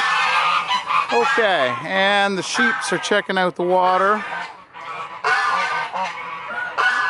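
A goose honks loudly and repeatedly in a barnyard at night, with nasal calls in quick bursts close by while a person talks over them.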